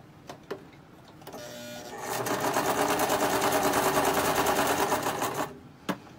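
A sewing machine stitches around the edges of a fabric napkin, running a steady, close mechanical whir for about three seconds, framed by a few sharp clicks before and after.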